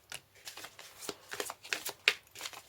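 Lenormand cards being shuffled by hand, a quiet, close run of papery riffles and soft slaps in an irregular rhythm, one crisp snap standing out near the end.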